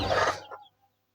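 A single short cluck from a chicken at a fancy-breed poultry farm, close and brief, fading quickly into silence.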